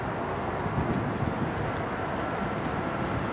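Wind blows steadily outdoors during a demonstration of an ELIDE FIRE fire extinguishing ball, a constant broadband roar with slight gusty swells and no clear voices.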